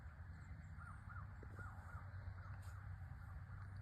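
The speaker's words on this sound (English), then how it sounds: "I mean, I can hear crows." Several crows caw in a loose series, faint and distant, over a steady low rumble of background noise.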